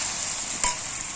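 Sliced potatoes fry in a pan, giving a steady, close hiss of sizzling oil throughout, with one brief scrape of stirring just past the midpoint and no voices.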